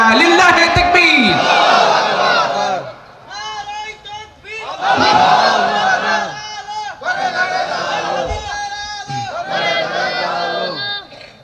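A crowd at an outdoor Islamic sermon gathering answers a preacher's call with a loud takbir chant, several powerful bursts of massed voices shouting in unison with short pauses between them.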